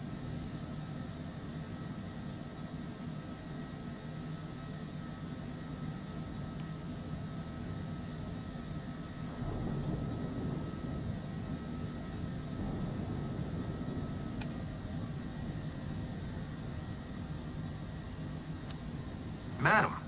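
A Cessna Citation Longitude business jet in MSFS 2024 on the runway for a stormy departure from Guipavas, a steady broad jet roar that swells somewhat midway and holds continuous.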